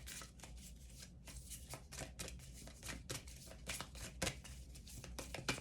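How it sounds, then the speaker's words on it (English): A stiff deck of reflection cards is shuffled close up in a quiet room, producing a series of soft, quick riffling and slapping bursts with no talking. "These cards are a little bit hard to shuffle"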